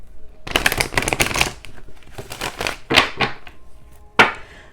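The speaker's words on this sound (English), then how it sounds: "Let me shuffle one more time" Tarot cards are riffled and shuffled in several quick bursts of crisp flapping, close up, with short pauses and a final snap.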